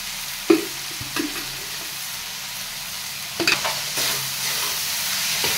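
Tomato and onion with garlic-onion chutney sauté in a pan under a constant hiss, broken by a few clacks of a spatula turning the mixture, and the sizzle swells louder toward the end.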